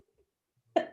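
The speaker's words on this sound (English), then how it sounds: "sorry for the cough" A single short cough near the end, close and fairly loud, after near silence.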